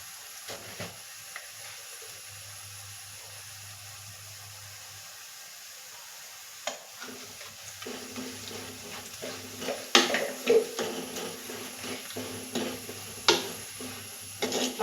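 Browned onions fry in a pan as turmeric powder is added and stirred in. A low, steady sizzle runs throughout, joined partway by scraping stir strokes and occasional sharper clinks. No one talks.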